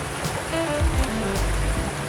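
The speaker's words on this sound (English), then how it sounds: "ways to wake up in the morning, in the rain, in Japan, by a river, in a forest" Steady morning rain pattering beside a flowing river in a mountain forest in Japan, a continuous close wash of drops and running water with no voices.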